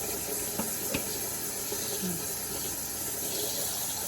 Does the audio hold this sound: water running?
yes